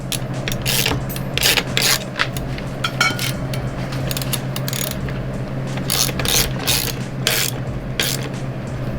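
A ratchet tightens the wheel nut on a BMX bike, producing rapid, close metallic clicking in repeated bursts over a steady low hum, with no voices.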